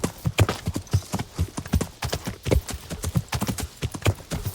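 A horse gallops in Kingdom Come: Deliverance, its hooves striking in a fast, regular clip-clop rhythm, loud and close, with no speech over it.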